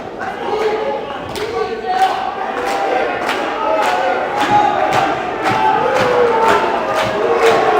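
A crowd at a high school dual wrestling match claps in a steady rhythm, sharp evenly spaced claps over a loud, busy gym murmur that continues throughout.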